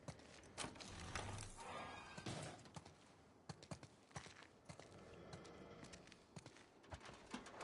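Horses in The Last of Us Part II make faint, distant hoof clops with occasional snorts over a low, busy game ambience.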